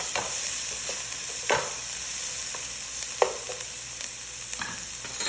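Onion, garlic and chili fry in a little oil in a pan for a Filipino fish sauce, a steady close sizzle broken by several brief stirring scrapes, with no voices.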